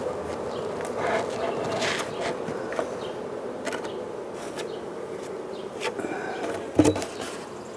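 Bees buzz steadily around a nuc box, a soft, close, continuous hum with a few louder passes and light handling knocks.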